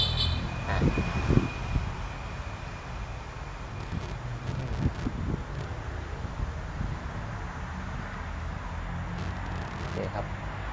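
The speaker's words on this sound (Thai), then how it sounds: "เหมือนลมแรงนะครับ เหมือนพายุจะเข้า" Strong wind gusting outdoors as a storm approaches, a steady roar and rush buffeting the microphone while someone talks over it, with occasional faint bird calls.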